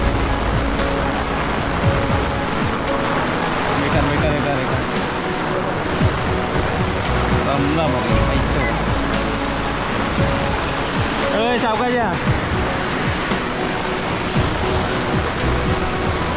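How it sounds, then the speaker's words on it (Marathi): Heavy rain pours down with rushing flood water on a village farm, a loud unbroken roar of water that fills the whole scene while someone speaks over it. "बेकार पाऊस आलेला आहे."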